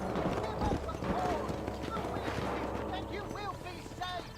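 Rhythmic clip-clop of a horse galloping in the Western video game Red Dead Redemption, steady hoofbeats running throughout beneath excited talk and game sounds.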